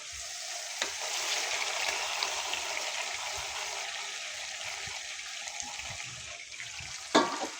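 Liquid poured into a cooking pot while making a spiced beef head meat dish: a steady, close rushing splash that holds for several seconds and then ends with a brief clatter.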